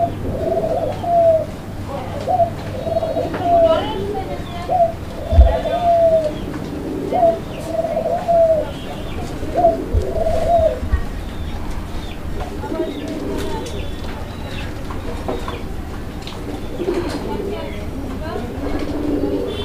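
Raj-golla and Madrasi-golla pigeons coo nearby in a repeated rolling rhythm, the calls coming every second or so, mixed with people talking and faint background noise.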